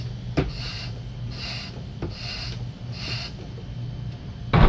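Four rhythmic rasping strokes of a hand pump aboard a sailboat, each a breathy scraping whoosh, separated by dull clicks, with a sharper knock at the end.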